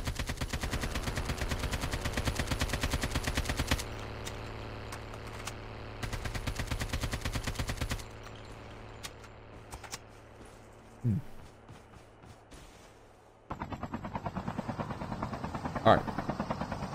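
Automatic gunfire in Call of Duty Mobile, a solo versus squads match, with sustained bursts of rapid shots that stop and start, loud at first and then quieter and more distant, with mixed game sounds between the bursts.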